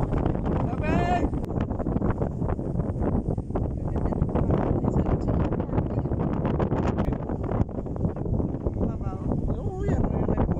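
Strong wind buffets the microphone on a farm, a loud, continuous roar and rumble with gusty rustling, while people talk over it.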